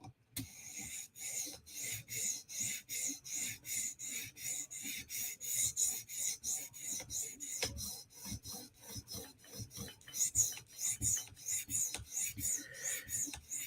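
A PM2 Tanto knife blade is stroked back and forth on a lower-grit whetstone, giving steady rhythmic rasping scrapes, about two per second, close and fairly quiet, with no speech.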